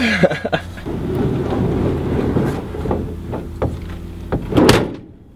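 A Kombi van's sliding door is pulled along its track and slams shut with one loud, close thud near the end, following a stretch of low rumbling handling noise.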